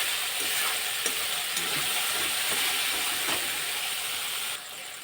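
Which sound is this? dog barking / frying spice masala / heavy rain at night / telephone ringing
frying spice masala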